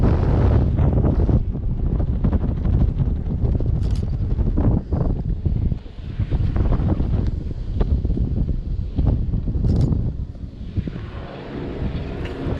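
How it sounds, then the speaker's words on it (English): Strong wind buffets the microphone continuously, a loud, rough roar with gusty surges throughout and no voices. "I was not expecting it to be this windy today"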